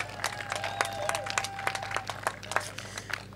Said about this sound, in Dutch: Dus daar ook een enorm applaus.